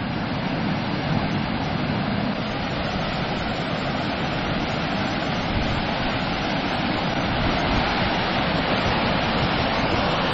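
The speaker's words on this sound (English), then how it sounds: "Oh my god, check out these rapids." River rapids roar loudly and without a break beside a winter walking route, a dense, unbroken rush of churning white water close to the listener.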